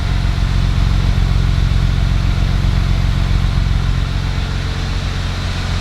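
A BMW M Roadster engine idles steadily nearby, a continuous low rumble heard alone with no talk.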